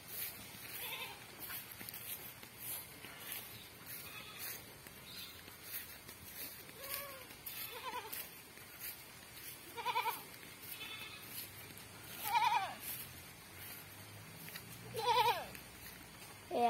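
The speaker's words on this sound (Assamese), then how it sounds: "সিফালে ইজনী ছাগলীক দেখাবলৈ যাম।" A goat at a rural home bleats repeatedly at irregular intervals, fairly faint and a little distant, with soft background noise between calls.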